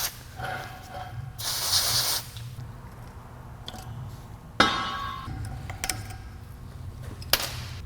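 Penetrating oil sprayed onto a vehicle U-joint yoke held with snap rings, a loud hissing aerosol burst of about a second near the start, followed by faint metallic clinks and handling knocks.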